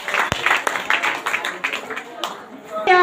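Congregation clapping during a church testimony service, scattered and uneven bursts of hands clapping under a voice speaking over them, fairly close and moderately loud.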